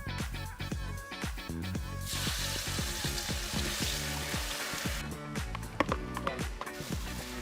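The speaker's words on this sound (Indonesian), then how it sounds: "bumbu kelapa ini harus ditumis lebih dulu, biar lebih gurih rasanya" Coconut spice paste sautéed in a pan, a steady sizzle under a bed of rhythmic music, with the frying hiss swelling louder in the middle before easing back.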